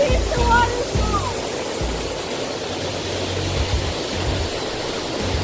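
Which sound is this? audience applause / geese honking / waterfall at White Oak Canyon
waterfall at White Oak Canyon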